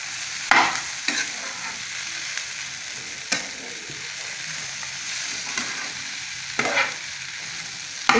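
Chopped onions fry in oil in a pan for a raw banana fry, a steady soft sizzle broken by several sharp scraping stirs of a spoon, close-up with no voices.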